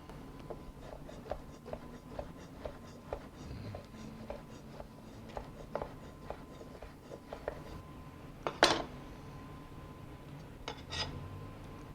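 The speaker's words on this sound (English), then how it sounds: "Slice the artichokes." A knife slices artichokes on a cutting board, making a run of quiet, regular taps and scrapes close by, with one sharper clatter near the end and no talking.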